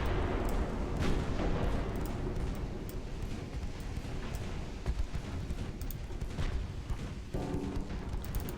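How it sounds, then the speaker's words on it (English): Warship naval guns in Ultimate Admiral: Dreadnoughts fire repeatedly, heavy booming shots and rumbling blasts overlapping in a dense, continuous barrage that stays loud for the whole stretch. "we're about to have to fire across the bow of our other ship"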